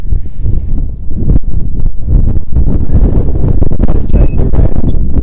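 Strong southerly wind on a drain fishing bank, gusting hard and buffeting the microphone with loud rumbling roars that swell and ease throughout.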